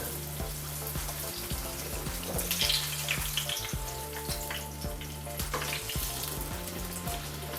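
Appadittu (neer kajjaya) dumplings sizzle steadily in hot oil, a continuous crackling hiss with a low, humming drone beneath it.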